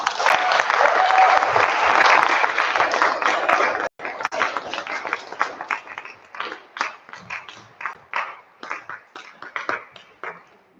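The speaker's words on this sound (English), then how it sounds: "give them a warm round of applause" An audience at a service breaks into warm applause, a dense wash of clapping that thins after a few seconds into scattered, uneven claps before fading out.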